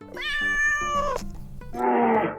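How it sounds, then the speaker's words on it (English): A cat meows twice at close range, a long drawn-out cry followed by a shorter, rougher one. "That is, in fact, a cat."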